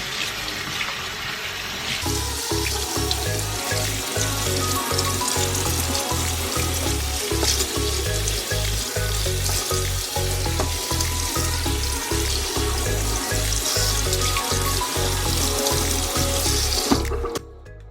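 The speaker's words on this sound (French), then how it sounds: "on rince abondamment." Water runs steadily from a tap in a kitchen sink as a salt-cured leg of lamb is rinsed under it, a continuous close splashing rush that cuts off near the end.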